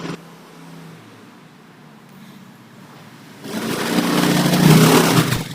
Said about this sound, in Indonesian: Maaf, itu ada suara motor ya.